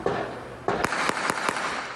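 Gunshots during a shootout in the Tancredo Neves neighbourhood, heard as four sharp cracks spaced about a quarter second apart, fairly close and loud, following a burst of noise, with no talk.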